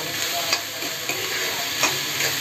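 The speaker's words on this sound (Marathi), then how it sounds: "जरा 1 मिनिटभरच परतून घ्यायचं आहे आणि लगेच त्याच्यामध्ये भाजी घालायची आहे" Onion and garlic sautéing in hot oil, a close, steady sizzle broken by a few quick stirring scrapes at a regular pace, no talking.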